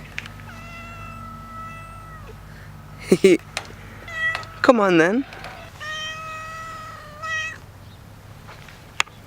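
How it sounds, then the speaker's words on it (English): A little cat at an animal sanctuary meows loudly and close by, with several drawn-out and wavering cries, while a person speaks briefly between them. "What a cool little cat."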